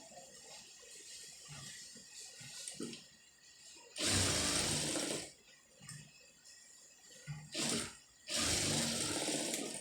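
A sewing machine stitches fabric lining in three bursts of fast, even whirring, two longer and one brief, with quiet fabric handling and soft clicks between runs.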